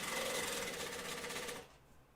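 A sewing machine named Artemis runs steadily while top stitching fabric, giving an even, fast mechanical whir for about a second and a half before it stops.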